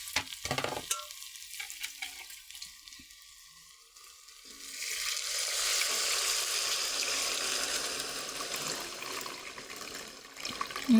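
Water poured into an egg curry masala in a pan sets off a rising, hissing sizzle after a quiet start, growing loud and steady, then easing near the end.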